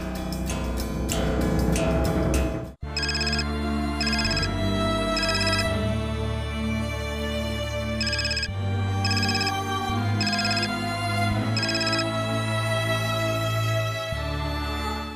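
A phone ringtone plays loudly for the full stretch, a repeating electronic melody with a brief dropout near the start, then continuing steadily with no talk over it.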